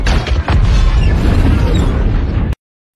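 A ship explodes in a movie scene after a helicopter crashes into it, a loud, dense roaring boom with a sharp burst near the start and a rumbling blast that continues before cutting off abruptly.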